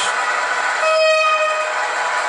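A thin, sustained horn tone from a PIKO SM31 model locomotive sounds over a steady mechanical hum, holding for under a second in the middle of the clip.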